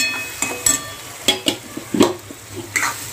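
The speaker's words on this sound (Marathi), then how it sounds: "त्यानंतर चांगल्या प्रकारे हलवून घ्यायचं आहे" A spoon stirs ground spices such as garam masala, turmeric and salt in a frying pan, making a series of distinct scraping strokes over a faint sizzle, with quiet pauses between the strokes; no voices.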